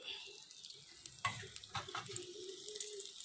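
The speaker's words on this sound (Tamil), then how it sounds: "இப்போ குழம்பு தாளிச்சிடுவோம். எண்ணெயை கொஞ்சம் ஊற்றுவோம்." Dried red chillies sizzle in hot oil for a tempering for drumstick-leaf sambar. The crackle is soft and continuous, close by, with a few light clinks and stirring sounds.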